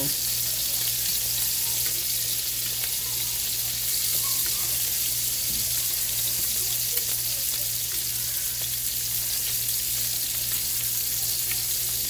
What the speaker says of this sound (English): As these steaks are cooking, I'm just gonna really put that butter.